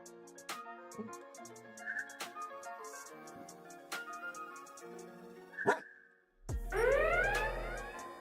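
A dog sitting with its back turned lets out a series of sharp, close barks at an uneven pace, then a drawn-out whining yelp at the end.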